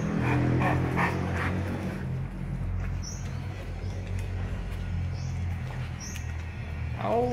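Small puppies whimpering and yipping with faint high squeaks while being fed, over a low steady hum, close by and fairly quiet.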